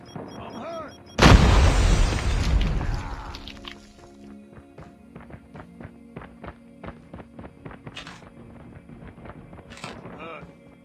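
A Semtex grenade explodes in the mobile shooter Call of Duty Mobile with a sudden loud boom, followed by scattered gunfire, footsteps and game callouts over continuous battle noise.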